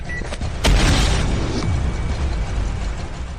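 A single deep boom from an explosion sound effect bursts in suddenly, then rolls into a long, rumbling decay that fills the rest of the moment.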